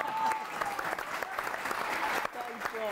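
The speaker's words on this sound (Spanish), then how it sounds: "Y un aplauso a Preston por haberlo dicho bien por primera vez." Brief burst of audience clapping at a comedy show, about three seconds of dense applause with voices and laughter mingled in.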